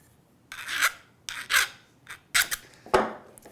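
A coarse metal file rasps over the corners of a steel card scraper being sharpened: five short, close strokes in separate bursts with brief quiet gaps between them.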